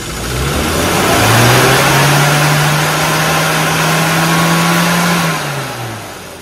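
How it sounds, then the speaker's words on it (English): A classic car engine, fitted with a variable-dwell distributor, revs up steadily from idle, holds a rising, sustained roar for several seconds, then drops back toward idle, loud and close with no talking. "Start slow as you rev it."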